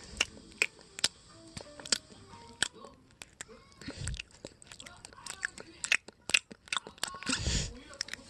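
Close, wet chewing and crunchy bites repeat in an irregular rhythm, with soft mouth noises in between.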